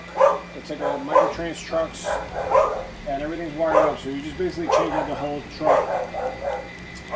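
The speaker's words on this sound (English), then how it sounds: "There's always some barking." Dogs barking and yipping repeatedly in the background, a steady run of barks and whimpers underneath someone talking close by in a room.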